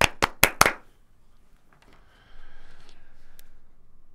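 Three sharp hand claps in quick succession at close range, followed by near silence and then a faint, steady background hum.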